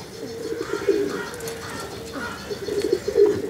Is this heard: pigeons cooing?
yes